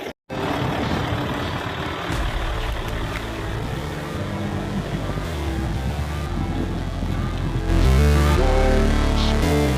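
A loaded water tanker truck drives through the Saudi desert, its engine droning loud and steady from inside the cab with shifting rumble and a heavier surge near the end.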